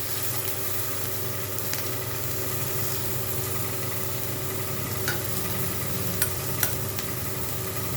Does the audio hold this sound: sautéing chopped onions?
yes